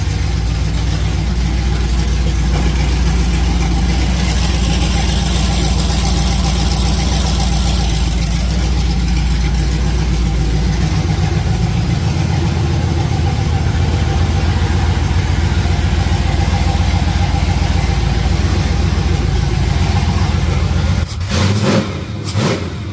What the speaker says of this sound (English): Still doesn't idle, but it sounds spicy. She's open header right now